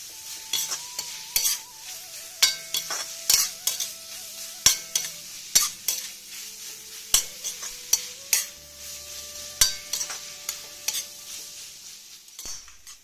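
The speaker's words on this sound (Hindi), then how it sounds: "देखिए उसमें अब हमने पाउडर मसाले भी डाल दिए हैं। अब इनको अच्छे से भून लेंगे हम लोग।" Spice powders roasting with radish in a hot pan: a steady sizzle broken by repeated sharp scrapes and taps of a spoon stirring against the metal, close and fairly loud, with no voices.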